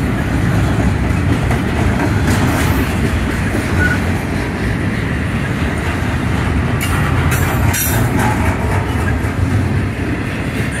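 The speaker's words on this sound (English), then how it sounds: "another intermodal train." A CSX intermodal freight train passing at milepost 6.2 in Collingdale, Pennsylvania, a loud, steady rumble of wheels on rail with clickety-clack, faint squeals and brief metallic accents, close by throughout.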